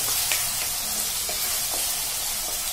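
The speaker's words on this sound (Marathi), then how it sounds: "ती पण कांद्यामध्ये व्यवस्थित मिक्स करून चांगली भाजून घ्यायची आहे दोन मिनिट चांगलं भाजून घेऊया" Masala with onion and ginger paste being roasted in a pan for paneer tikka masala, giving a steady, dense sizzle and hiss throughout with faint stirring scrapes and no voice.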